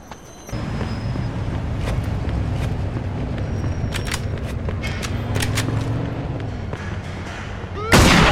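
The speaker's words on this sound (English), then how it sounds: "Got some nut job here shooting a gun." Gunfire in the Mafia II Jimmy's Vendetta DLC: repeated sharp shots crack over a dense, steady game soundscape, with a louder blast right at the end.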